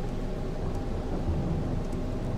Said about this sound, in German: Das war jetzt nur Blitz, Donner,